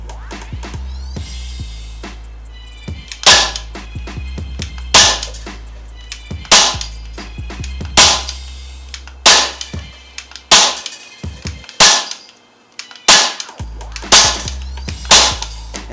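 An Umarex .177 caliber air rifle fitted with a T.A.C. converter fires about nine sharp, snappy shots. Each crack rings briefly, and they come at a loose, uneven pace over a low background hum.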